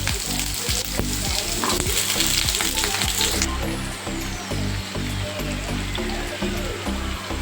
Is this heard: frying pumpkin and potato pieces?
yes